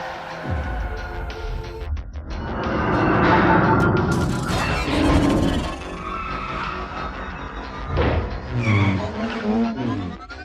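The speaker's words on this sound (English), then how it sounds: "Suddenly, a truck appeared ahead, but fortunately, Jason managed to drift around it." A car drifts around a truck with loud, sustained tire squeal and skidding that swells in the middle, over a roaring engine, followed by further screeching and mechanical clatter.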